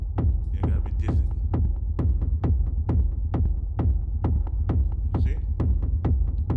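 A reverberant kick drum made in Reason's software studio pounds in a steady rhythmic groove, each thump ringing out with a short tail, loud and upfront with no talking.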